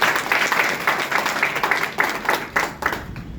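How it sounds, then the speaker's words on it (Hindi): Audience applause for Ram Kumar at a business gathering, a dense burst of many hands clapping, fairly close and loud, with faint talk beneath. "राम कुमार जी की जबरदस्त ताली होनी चाहिए"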